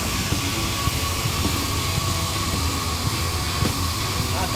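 A loud, continuous hiss of steam escaping from a small kerosene-fired steam locomotive fills the scene, steady and close, with faint crackles and clanks underneath.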